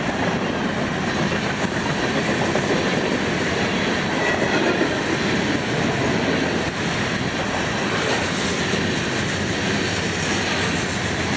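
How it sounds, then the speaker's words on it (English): A mixed-manifest freight train rumbles past up close, a steady, loud roar of rolling cars with faint clickety-clack from the wheels throughout. "When I went past this train."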